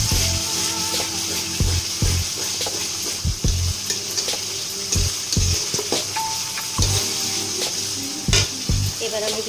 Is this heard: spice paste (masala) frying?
yes